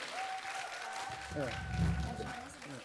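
Applause from a seated audience at a humanities talk concert, a soft wash of clapping running under several voices talking near the stage.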